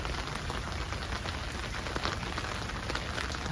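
Rain falls steadily on a backyard garden of succulents, cacti and California native plants potted beneath the eaves, a continuous dense patter with scattered sharper drops, close and fairly quiet.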